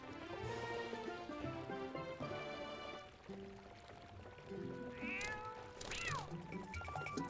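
A cat in The Legend of Zelda: Twilight Princess HD gives a couple of clear meows in the second half, set against melodic game music that plays throughout.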